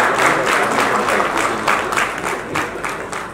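Audience clapping at a district planning committee award ceremony honouring officers and staff, a sustained, fairly loud wash of many hands that swells in uneven waves and tapers slightly toward the end.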